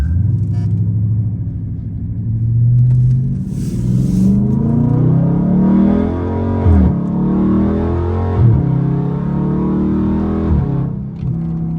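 A Dodge Scat Pack's engine and exhaust heard from inside the cabin with the windows up, a muffled rumble rising and falling through several revving pulls as the car accelerates.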